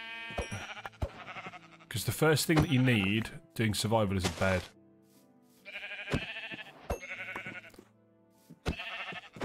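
Sheep bleating in a video game, several short wavering bleats at moderate loudness, with someone talking over and between them.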